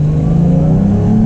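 A Porsche 992 S with a manual gearbox accelerates hard through turns, its engine note rising steadily in a strong, continuous close-range roar with no voices.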